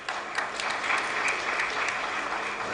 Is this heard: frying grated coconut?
no